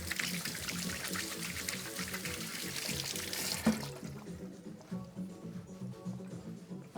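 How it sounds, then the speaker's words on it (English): Running tap water splashes over hands being rinsed at a sink, a steady close wash for about four seconds that then thins to softer trickles and drips. "I'm just gonna rinse my hands"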